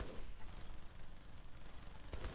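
Rapid, steady gunfire from the video game Saints Row: The Third, a dense continuous burst lasting the whole moment, with a sharper shot near the end.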